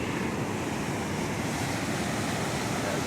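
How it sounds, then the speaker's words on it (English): Rough ocean surf crashing steadily on the beach at Rosarito, Mexico, a loud continuous roar of breaking waves with wind noise and no pauses. "The ocean is violent today"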